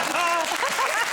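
Studio audience on a comedy quiz show applauding, a brief, dense wash of clapping with a voice talking over it.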